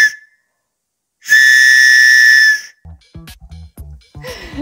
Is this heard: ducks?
no